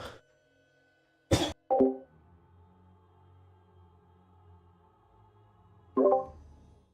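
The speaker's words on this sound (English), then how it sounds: "Pardon me, had to cough." A single sharp cough, followed by a short burst of throat noise, then quiet with faint resonant clatter and another brief thump.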